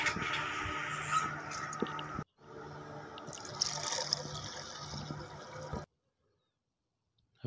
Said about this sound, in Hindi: अब इसमें साफ़ पानी ऐड करेंगे नया।